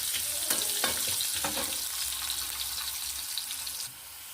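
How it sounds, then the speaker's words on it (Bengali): Potato pieces with salt and turmeric fry in a pan, a steady close sizzle with a few scraping stirs early on, then settling into a quieter, even hiss. "নুন আর একটু হলুদ দিয়ে এটাকে আমি একটু ভেজে নেব"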